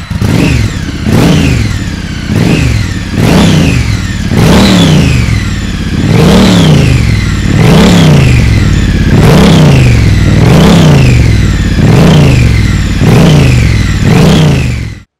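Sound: Triumph motorcycle revving with Vance & Hines slip-on exhausts

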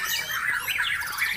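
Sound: white-rumped shama (murai batu) singing at bird contest

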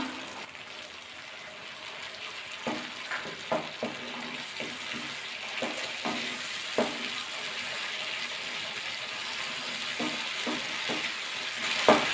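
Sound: spice paste frying and being stirred with added water

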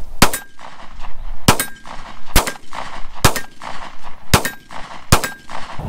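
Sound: Sig Sauer P365 9mm rounds hitting a steel silhouette target

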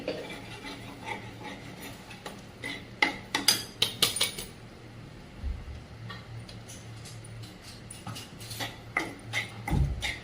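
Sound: ground moong dal being added and stirred in a pan

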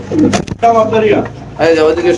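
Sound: pigeons cooing at a pigeon market

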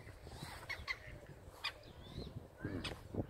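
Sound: hens clucking

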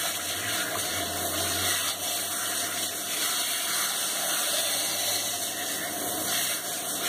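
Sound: rinsing an animal's fur with water during a bath

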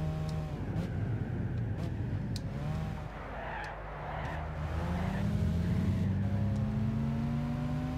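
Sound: Lancia Stratos car engine in video game Gran Turismo 6

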